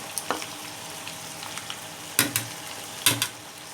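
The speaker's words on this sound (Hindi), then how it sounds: "ये हल्का सा फ्राई हो चुका है गोश्त" Meat for a Peshawari karahi fries quietly in the karahi with a low, steady sizzle, and three sharp stirring clatters of the spoon come about a second apart toward the end.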